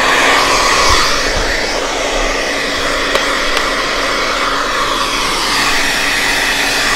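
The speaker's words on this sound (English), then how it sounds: "So wherever this dryer is separating that hair, that is where I am" A pet grooming dryer blasts steadily through an English Springer Spaniel's coat, a loud, close, continuous broadband whoosh with a constant hum underneath and no pauses for the full length.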